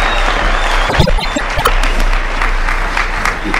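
An audience at a gospel concert bursts into loud, sustained applause for the performers, a dense wash of clapping that stays steady throughout with a few sharper hand claps standing out.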